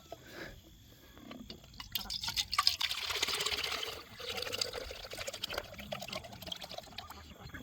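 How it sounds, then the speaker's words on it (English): Liquid pours from a jug into a container beside a duck pond, a steady splashing stream that builds and swells in the middle, then continues more unevenly toward the end, close by with no talking. "I'm going to go ahead and pour it out into this container"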